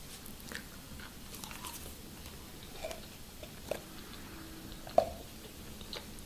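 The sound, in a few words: gum chewing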